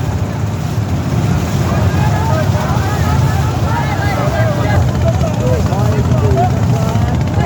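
Racing boats in a traditional boat race on the Kaliganga river, heard as a loud, continuous windy rush of open-air noise with a commentator talking over it the whole time.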